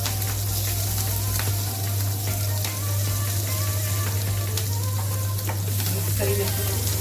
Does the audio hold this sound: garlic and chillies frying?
yes